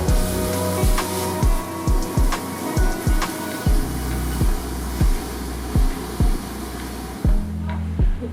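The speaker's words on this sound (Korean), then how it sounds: "새우 머리를 넣고 으깨주면서 볶아줍니다." Shrimp heads frying in a pan while being pressed and crushed with a potato masher, giving a steady sizzle broken by regular thumping presses about every half second.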